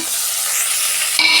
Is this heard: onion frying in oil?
yes